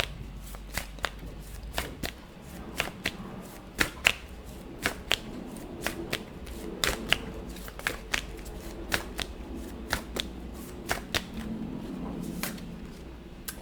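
Tarot cards are shuffled and drawn, a steady run of crisp, close snaps and flicks repeating for many seconds, alone with no talking.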